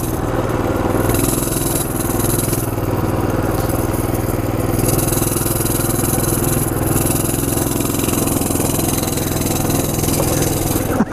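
A Coleman CT200U EX pit bike engine runs steadily and loudly up close, a constant buzzing drone throughout with slight throttle variation and no pauses.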